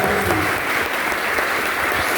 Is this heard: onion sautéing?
no